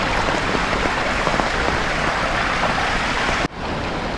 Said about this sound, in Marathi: पाऊस जास्त आहे